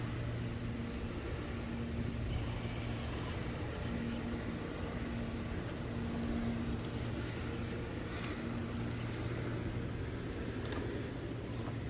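Traxxas TRX4 RC trail truck crawling over plywood, a steady electric motor whine with a constant hum under it, close by and sustained with no speech.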